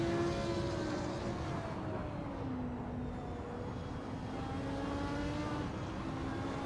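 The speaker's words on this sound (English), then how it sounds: "The BMW incredibly fast through the last combination of corners." A BMW race car engine in a sim racing game, heard at Road Atlanta as a steady, droning engine note with shifting pitch and other cars blending in, moderately loud without talk.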